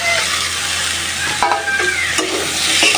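Potatoes and tomatoes sautéing with spices in a hot pan, a loud, steady sizzle close by with a spoon scraping and stirring through it.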